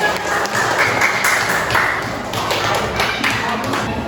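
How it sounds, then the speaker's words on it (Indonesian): Classroom applause from pupils during a lesson presentation on the human digestive system, a brief burst of dense clapping that fades and rises again over about four seconds, with voices mixed in. "beri tepuk tangan"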